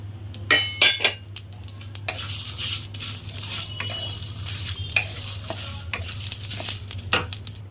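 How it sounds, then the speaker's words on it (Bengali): Cumin, coriander and panch phoron roast in a dry wok, with a soft crackle under repeated scraping and clinking of a spatula against the metal, plus a low steady hum. "এবার আমি দিয়ে দেবো মধ্যে জিরে, ধনে আর পাঁচফোড়ন একসঙ্গে।"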